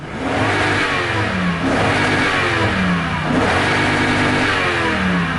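A 2008 Toyota Tundra pickup's V8 engine revs repeatedly, rising and falling in three strong surges close by, loud and throaty with no voices.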